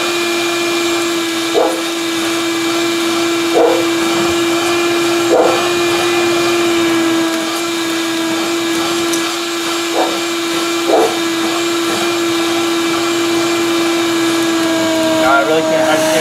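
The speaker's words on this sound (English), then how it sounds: "Using the vacuum. Maybe this will work better." A vacuum drones steadily while sucking up dirt around an underground sprinkler valve manifold outdoors, with occasional clatters and scrapes as debris is drawn in, and a person talks intermittently over it.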